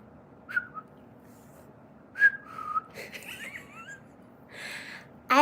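A person whistles several short, scattered notes and gliding tones, close to the microphone, with breathy gasps and inhales between them in a quiet room.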